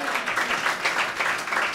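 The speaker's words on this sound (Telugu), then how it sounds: "చప్పట్లు కొడదామంటే" A church congregation at an all-night prayer meeting claps in a quick, steady rhythm, many hands together at moderate loudness.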